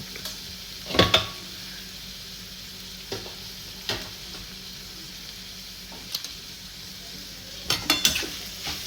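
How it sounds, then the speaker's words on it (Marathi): Ridge gourd vegetable with chilli and salt is stirred and sautéed in a kadhai, giving a low continuous sizzle broken by several sharp metallic scrapes and clanks of the spoon against the pan, with no voices. "असं व्यवस्थित सांडशीला धरा ती कढई आणि छानपैकी ती भाजी तिखट मीठ त्यात व्यवस्थित मिसळते का नाही यासंबंधी अशी ढवळून घ्या व्यवस्थित परतून"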